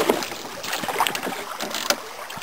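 A small boat cruises along at about five knots with a fishing lure trailed out, its hull washing steadily through the water under gusty wind noise and a few brief louder splashes.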